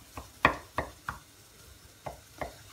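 Knife chopping onions on a cutting board for bhaji, a handful of sharp, close chops in an uneven rhythm with short pauses between them, alone with no talking.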